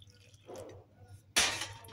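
Warm water splashes and pours into a bowl of flour, yeast, salt, yogurt and oil for small cheese pizza dough, with a soft trickle followed by a louder, close burst of pouring.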